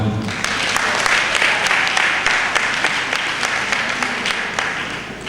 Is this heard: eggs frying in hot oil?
no